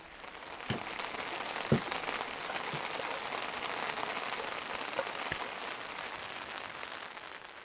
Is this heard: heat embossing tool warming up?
no